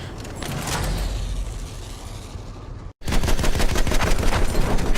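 Attack plane machine gun in Battlefield 1 fires a dense, loud stream of rapid shots, broken by a brief silent gap near the middle before an even harsher burst resumes.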